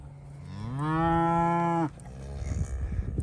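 A cow on a farm lets out one long, loud, close moo that rises in pitch and holds steady for about a second before cutting off, followed by low rustling and handling noise; no one speaks.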